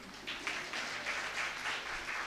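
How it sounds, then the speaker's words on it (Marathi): An audience at a Dasbodh religious camp in Thane gives soft, distant applause, a faint wash of many hands clapping together in gentle swelling bursts. "टाळ्या वाजवा."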